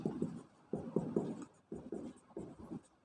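Chalk or marker writing on a classroom board in short scratchy bursts, several quick strokes per group with brief pauses between, close and fairly faint.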